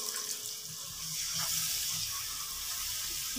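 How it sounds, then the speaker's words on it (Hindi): Water is poured into a pan of onion egg curry with salt and dried coriander, giving a soft, steady rushing hiss that swells slightly midway, with no voices over it. "इसमें थोड़ा सा पानी हम ऐड करेंगे"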